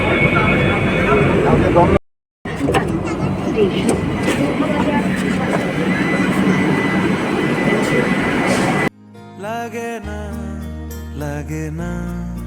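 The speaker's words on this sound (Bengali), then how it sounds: "আর এই বলতে বলতে চলে এসেছে মেট্রো, এটাতেই এখন উঠবো।" A Kolkata metro train rumbles loudly into the station, a sustained roar of wheels and motor that cuts off abruptly before music takes over.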